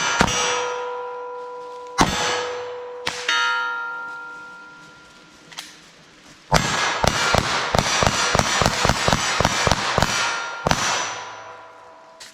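Taurus TX22 .22 LR pistol shots ring out on steel targets, a few spaced single shots with long metallic ringing decay, then a fast rapid-fire string of sharp cracks each followed by a bright clang, loud and close.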